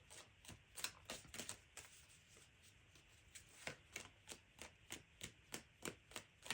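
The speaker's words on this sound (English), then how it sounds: "I will now shuffle." Tarot cards being shuffled by hand, quiet close riffling and soft slapping in an uneven run, growing into a more rhythmic patter toward the end.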